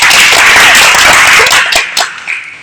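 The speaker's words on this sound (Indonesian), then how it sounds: "Tepuk tangan dulu." A group of junior high school children at a swimming lesson clap together in a brief loud burst that fades into a few scattered claps.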